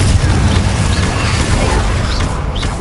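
A Confringo blasting spell explodes in the Hogwarts Legacy video game, a loud dense rumbling blast filling the whole moment with heavy low-end boom and noisy debris, continuous and close.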